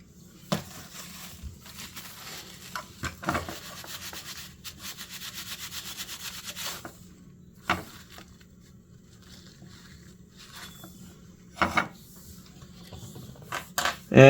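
Lacquer thinner is scrubbed over the conformal coating on an EEPROM chip, producing faint, intermittent rubbing and brushing strokes with short scratchy bursts and quiet pauses between them.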